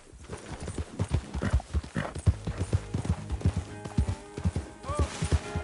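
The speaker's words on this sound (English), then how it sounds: "Can you help me? My horse got away." Rhythmic clip-clop of a horse's hooves thudding along at a steady quick pace in Red Dead Redemption 2, fairly close, with a brief whinny toward the end.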